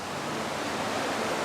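Charters River, a salmon stream, flows with a steady, even rush of water, a constant broadband wash with no breaks and no voices.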